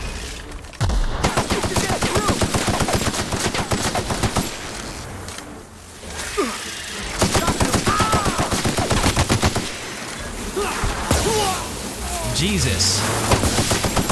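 Rapid automatic weapon fire in The Outer Worlds video game, long bursts of dense shots broken by brief pauses, loud and close, with a player talking over parts of it.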